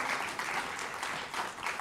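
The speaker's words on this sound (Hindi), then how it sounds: "तो एक बार फिर जोरदार तालियों से अभिनंदन करिए अनुराग ठाकुर जी का।" A television studio audience gives sustained applause to welcome Anurag Thakur in an interview setting, a steady wash of clapping with a few louder swells, fairly close and without voices.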